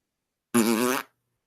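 A single fart sound effect, a loud, buzzy, fluttering blast lasting about half a second, isolated against silence before and after.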